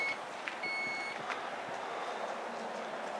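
A 2018 Dodge Durango SRT 392's power liftgate gives a single short electronic beep, followed by faint mechanical closing sounds over a quiet outdoor background.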